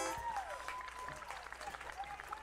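An outdoor park crowd claps for a live band, a dense, moderate burst of applause with a faint whistle-like tone weaving through it.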